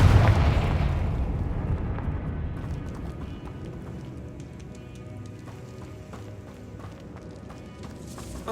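A Confringo fire spell in the Hogwarts Legacy video game bursts with a loud, broad blast at the start, then decays into a rumbling, crackling tail with scattered ticks and debris-like clatter, no talk over it.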